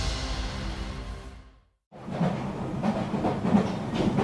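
A train rumbles along the rails with a continuous, moderately loud clattering roar. It cuts out briefly for a moment of silence, then resumes.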